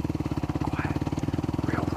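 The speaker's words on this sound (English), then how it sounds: "Keep the bike all quiet like." A motorcycle idles and creeps along slowly and quietly, its steady low engine pulse throbbing evenly throughout, close by with no talk over it.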